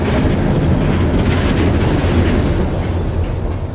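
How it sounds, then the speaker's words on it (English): A train travels steadily along the track, a loud, continuous rumbling roar close by with a dense low-frequency drone and no talking. "the train got back on its way"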